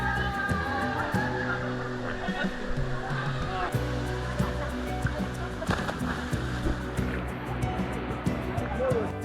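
Steady rushing roar of Kawasan Falls, a canyon waterfall in Badian, Cebu, a constant wash of falling water close by, with voices talking over it.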